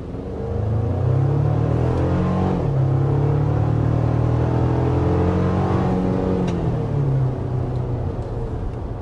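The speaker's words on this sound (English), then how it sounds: "It's definitely enough to really push you back in your seat and accelerate this mid-sized truck." A Chevy Colorado mid-size pickup accelerates hard, its engine rising in pitch through gears with a brief shift dip, a loud, close in-cabin roar and rumble lasting about nine seconds without talk.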